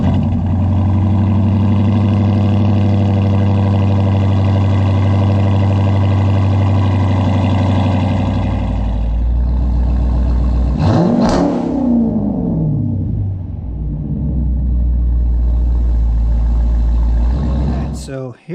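Dodge Charger V8 with a modified exhaust revving hard, a loud deep roar that holds then drops sharply with a rising and falling sweep before settling back to a heavy idle.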